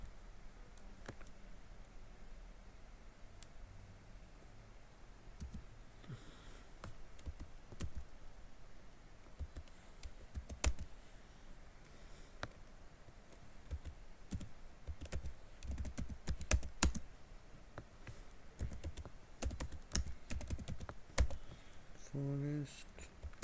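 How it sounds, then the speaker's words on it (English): Faint, scattered key clicks from typing on a computer keyboard continue throughout, irregular and sparse, with low background noise and occasional soft speech. "There is something wrong in my typing"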